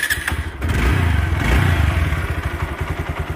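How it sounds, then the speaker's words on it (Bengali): A 2019 TVS Apache 4V 160cc motorcycle fires up with a brief crank and catch, then settles into a steady, close, loud idle with an even rapid thumping exhaust pulse. "এবার বাইকটা স্টার্ট দিয়ে বাইকের সাউন্ডটা শুনি।"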